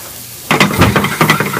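Chicken stock poured into a hot pan of sizzling chorizo and pepper mix gives a sudden loud hiss, then crackling frying with stirring scrapes, close and alone.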